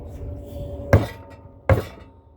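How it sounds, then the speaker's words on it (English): Two sharp taps from the back of a hammer strike a pressure washer part set on a flat surface during a repair, separated by a short pause and fairly close. "I'm just gonna use the back of my hammer."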